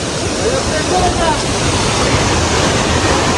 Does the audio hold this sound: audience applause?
no